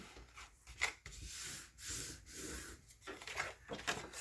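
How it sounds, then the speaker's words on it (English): Paper milk carton folded along its score marks on a tabletop, giving a close series of soft creasing, rubbing and crinkling sounds in short bursts with brief pauses between them. "we're going to go ahead and fold all of our score marks."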